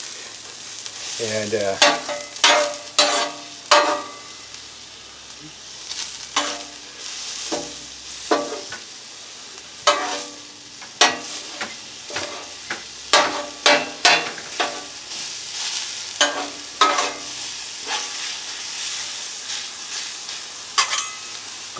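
Bacon and asparagus frying on a Blackstone griddle for pizza toppings, with a steady sizzle broken by repeated sharp scraping and clanking of a spatula against the hot flat-top, close and fairly loud throughout.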